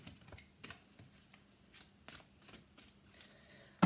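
Tarot cards being shuffled by hand, faint soft riffling and light papery taps in short irregular bursts, close and quiet, with no talking.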